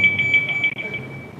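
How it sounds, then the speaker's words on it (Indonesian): A wake-up alarm clock rings with a steady, loud electronic beeping tone that pulses in rapid repetition, then carries on as a continuous tone, with no talk over it. "Alarm bangun tidur."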